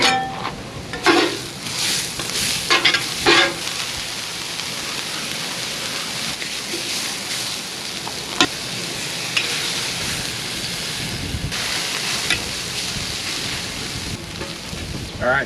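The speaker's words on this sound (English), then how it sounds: "Next step is waiting for the sweet potatoes to cook." Sweet potatoes frying in a pan for a one-pan hash, a steady close sizzle broken by occasional scraping stirs, with brief talk.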